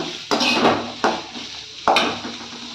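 Two large chopped onions are stirred in a pan for horsegram rasam, with three distinct metal scrapes and clanks of a spoon against the pan over a soft, faint background.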